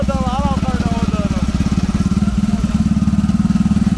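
Ford Fiesta fitted with a Honda Twister motorcycle engine, running with a rapid, loud, throbbing exhaust pulse close by while someone talks over it.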